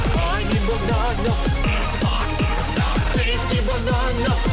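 A remix of a song plays loud and steady, with a punchy repeating bass-heavy beat and dense layered music all the way through.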